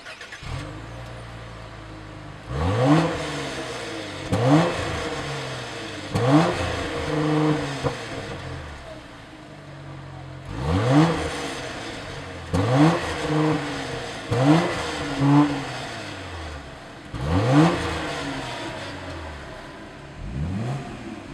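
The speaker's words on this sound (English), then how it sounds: "Within the first few seconds of driving this car" Car engine revving repeatedly while driving off, loud rising accelerations in bursts roughly every two seconds with gear-change dips between, close and clear with no talk.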